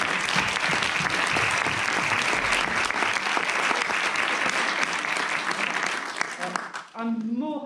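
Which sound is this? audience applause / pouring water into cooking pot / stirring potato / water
audience applause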